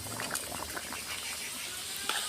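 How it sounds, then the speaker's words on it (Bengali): Jackfruit curry boiling in a pot, a soft continuous bubbling and popping at low level, with scattered small plops over a faint background hum. "টকবক করে ফুটছে আমার তরকারিটা"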